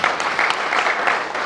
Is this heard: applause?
yes